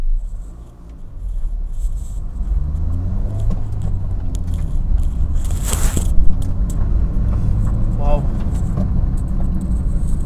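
Inside a Honda Brio on the move, the engine hums as a low, steady rumble with road noise, a few keys jangle, and people talk over it throughout.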